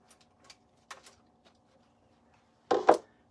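Scissors snip through the ribbon tail of a bow for a mixed bead grass wreath: two quick, close, crisp cuts near the end, after faint light handling noises in an otherwise quiet room.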